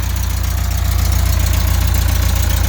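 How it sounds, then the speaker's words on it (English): Warmed-up air-cooled engine of a 1971 VW Beetle Autostick idling steadily up close, a loud, even low chugging pulse with a rhythmic ticking beat and no talk over it. "Engine's been running about"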